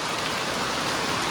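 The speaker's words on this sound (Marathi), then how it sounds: "पाऊस बघा कसलं लागता." Heavy rain pours steadily, a dense, even hiss with no pauses and no voices.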